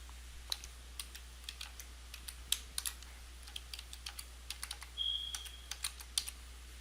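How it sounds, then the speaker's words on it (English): Typing on a computer keyboard to enter a web address and log in: sparse, quiet key clicks in irregular bursts, close and clear over a faint steady hum, with no talking. "So type in your browser appapp.groovefunnels.com and enter"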